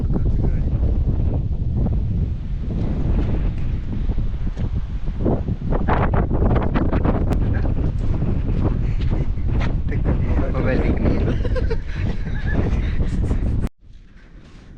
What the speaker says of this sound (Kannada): ಗಾಳಿ ಅಂತೂ ಸೂಪರ್ ಬರೋದು.